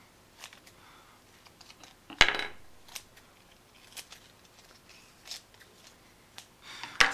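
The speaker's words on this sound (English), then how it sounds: "I'll cut down some of these leaves here too." Scissors snip the leaves of plant cuttings being cloned for hydroponics. Soft, quiet snips and rustles come intermittently, with a louder snip near the start and one at the end.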